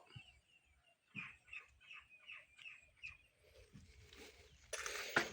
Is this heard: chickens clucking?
yes